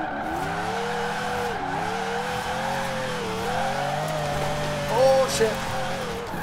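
A Formula Drift Ferrari 599 GTB with 1500 hp drifts in Forza Horizon 4, its engine droning steadily with wavering pitch while tires squeal through a drift zone, a brief sharper screech near the end under a player's short exclamation.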